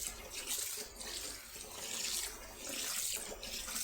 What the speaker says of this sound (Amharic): አሁን ሩዜን በደንብ አድርጌ ልጠብና